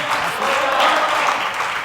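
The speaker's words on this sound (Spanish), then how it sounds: "Den un aplauso fuerte, fuerte, fuerte al Señor" A church congregation applauds the Lord in a steady, dense wash of clapping that holds at an even level for a couple of seconds, with voices mixed into the noise.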